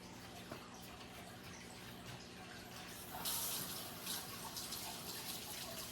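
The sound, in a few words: water running in sink, rinsing dog cookie dough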